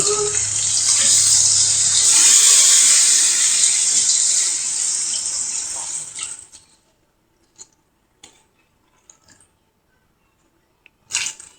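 Water runs steadily into a cooking pot with a loud, bright rushing for about six seconds, then stops, leaving a few faint clinks and taps in near silence.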